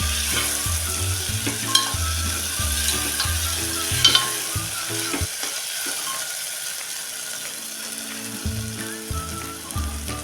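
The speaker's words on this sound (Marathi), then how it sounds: "ही थोडीशी मी फोडणी टाकून घेतलेली आहे" Oil sizzles and crackles steadily as tempering spices fry, with a rhythmic scraping and stirring noise, a few sharp clinks, and a brief quieter pause in the middle.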